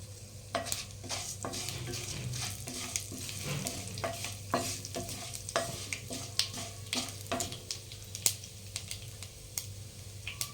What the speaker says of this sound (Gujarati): આ બધું સરસ આપણે આ રીતના મિક્સ કરી અને સાંતળશું.